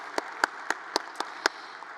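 A handful of separate hand claps ring out at a labor union convention, spaced fairly evenly and crisp, rather than a full crowd ovation.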